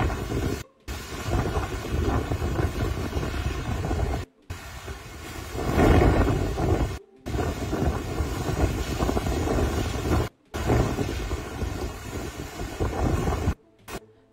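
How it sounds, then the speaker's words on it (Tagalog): Strong typhoon wind from Pepito's landfall roars continuously across the microphone in heavy buffeting gusts, swelling louder midway, with several brief dropouts breaking the stream. "Grabe yung hangin."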